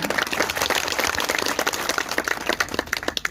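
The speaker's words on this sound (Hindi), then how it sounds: "जोरदार ताली बजाकर।" A crowd at a rural health-centre groundbreaking event claps loudly for the chief minister, a dense, uneven burst of many hands that stays strong across the whole stretch.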